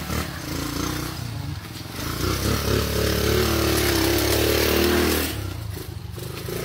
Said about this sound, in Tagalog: Ayan, may motor pala oh.